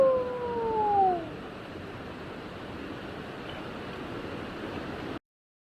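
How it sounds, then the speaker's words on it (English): Upper Whitewater Falls in North Carolina, a 411-foot plunge, gives a constant broad rushing roar that fills the scene evenly, with a brief falling tone at the start before it cuts off. "North Carolina's Upper Whitewater Falls is the highest waterfall east of the Rockies, with a towering 411-foot plunge"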